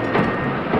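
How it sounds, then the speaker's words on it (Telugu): A departing train rumbles with a steady, loud low roar and faint rhythmic clatter of the carriages in a brief burst, with no talking. "ట్రైన్ వెళ్ళిపోతుంది"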